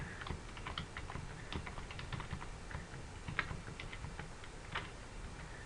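Fingers tap rapidly on a computer keyboard in quick irregular bursts of crisp clicks, close and clear with no talking.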